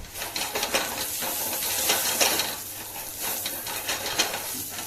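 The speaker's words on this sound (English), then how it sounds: "We fry them a little bit because there is a spice and flavors inside" Makhanas frying in hot oil in a kadai, a steady loud sizzle with intermittent hiss and stirring scrapes throughout, no voices.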